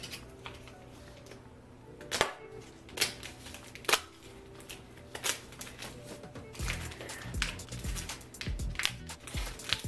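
A knife slicing sausage into circles on a cutting board in a home kitchen, a series of distinct sharp chops and taps, irregular at first then quicker and denser, fairly close and alone.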